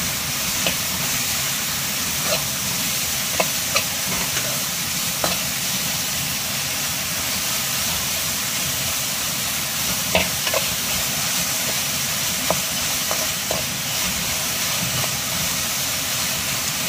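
Onion and green chillies fry in a pan with a steady broadband sizzle and hiss, while scattered clicks of stirring come through over about seventeen seconds.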